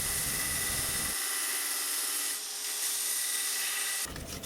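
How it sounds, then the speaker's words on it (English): Hand sanding on a wooden seax knife handle, a steady rasping scrape with one long continuous stroke, close and fairly quiet, with no talking. "And then we return to our favorite, more hand sanding"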